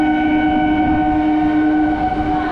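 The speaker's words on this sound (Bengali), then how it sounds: "এবার স্পিড বাড়ালো আমাদের ট্রেনটা, আমাদের অল্প অল্প করে স্পিড বাড়িয়ে দিল ট্রেন" A Kolkata suburban local train picks up speed, its steady mechanical hum and whine loud and close from inside, with a rumbling undertone and no voices.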